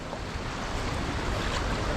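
Flood water surging and splashing in waves as vehicles, including a minibus, drive through a flooded street at Patong Beach, Phuket, Thailand; a steady, loud wash of churning water with no talk.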